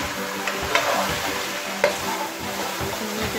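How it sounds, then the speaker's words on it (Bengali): Chicken with green chilli and cream sizzles steadily in a hot pan, close and continuous, with a few sharper scrapes and clinks as it is stirred. "এটাকে ভালোভাবে কষিয়ে নেব।"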